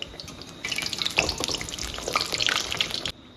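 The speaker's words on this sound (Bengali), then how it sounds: "এবার করলাম ডুবো তেলে।" Food deep-fries in a non-stick kadai full of oil, bubbling and crackling loudly up close in busy bursts before cutting off abruptly.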